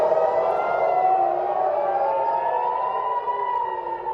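Air raid warning sirens over Israel wail steadily for incoming missiles. The tone is loud and sustained and rises and falls slowly, with no talk.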